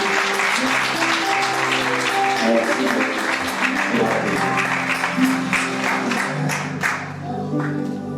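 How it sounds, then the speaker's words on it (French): A church congregation at a conference breaks into sustained, fairly loud applause, dense clapping continuing throughout with a few cheers mixed in. "Acclamons le Seigneur pour lui."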